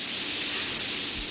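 Steady rain falls outdoors as a continuous, loud hiss with no break, with no voices heard.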